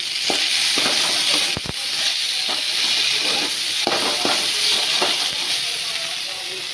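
Sliced bitter gourd (karela) fries in a pan with a dense, steady sizzle and hiss, broken by occasional sharp clicks and spatters, close and loud with no talking.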